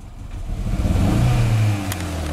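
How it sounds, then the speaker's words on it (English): A Hyundai Veloster engine with a suspected exhaust leak revs once, rising from idle to a loud, raspy mid-pitched climb close to the car before holding steady, with no voices. "because listen, when I rev it"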